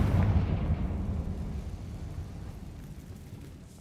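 Confringo spell explosion in the Hogwarts Legacy video game, a single deep boom that rolls out and slowly fades over a few seconds.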